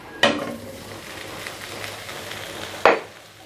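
Bitter melon hits a hot pan with a sharp sizzle at the start and another burst near the end, each frying hiss fading into a steady crackle as it is stir-fried with garlic, chilies and lime leaves.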